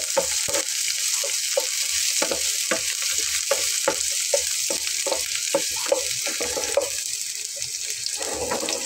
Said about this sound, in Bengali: আর দিয়ে নিচ্ছি পেঁয়াজ। একটু হালকা ভেজে নেব।